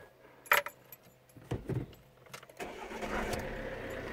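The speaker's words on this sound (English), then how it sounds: "I think engine must be started" Keys jangle briefly, then a Jeep Renegade's engine cranks and catches, settling into a steady low idle close by.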